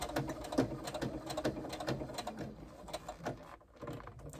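A sewing machine stitching pleats runs close by in rapid, uneven mechanical bursts of ticking and whirring, pausing briefly near the end before starting up again.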